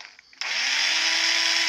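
A cordless rechargeable battery drill starts abruptly and runs with a steady, loud, high-pitched whine, close to the listener, with no speech over it.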